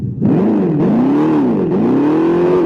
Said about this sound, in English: the fake exhaust sounds in the new all-electric Dodge Charger